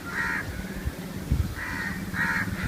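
A crow gives three harsh caws, two close together after a pause, moderately near, over faint background rumble and no speech.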